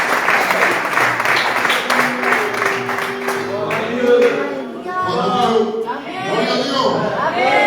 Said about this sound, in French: Est-ce que vous pouvez applaudir Jésus?